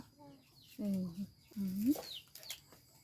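Chickens clucking close by in a few short, loud bursts with rising squawks, interrupted by brief pauses and faint background noise.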